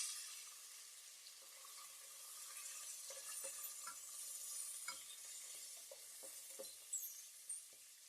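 Cashews and green peas fry in oil in a pan, producing a soft, steady sizzle with occasional light stirring clicks from a spoon, fairly faint and without talk.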